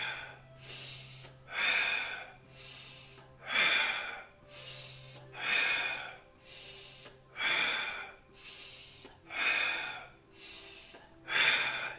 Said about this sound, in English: so in through your nose.